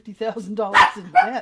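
A pet dog barks and yips several times close by, loud short barks with one sharp yelp, overlapping a person talking.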